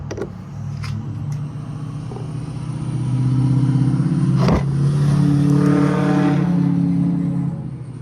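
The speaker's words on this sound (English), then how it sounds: "A lot of diesel trucks out today, so sorry about that one." Heavy diesel trucks rolling past outside on a cold, snowy day, a broad low engine rumble that swells and holds loud through the middle, with a sharp clatter partway through.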